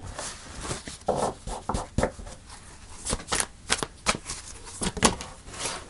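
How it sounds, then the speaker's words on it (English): Tarot cards being shuffled in quick, irregular bursts of riffling and sliding, close by and fairly quiet, with no talking. "Let me just shuffle"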